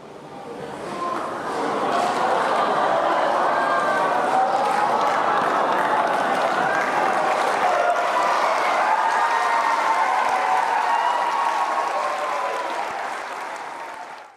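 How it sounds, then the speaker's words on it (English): A studio audience gives April a big round of applause, a loud, sustained crowd ovation swelling in, holding steady for several seconds, then tapering off, with faint cheering mixed in. "Let's give April a big round of applause."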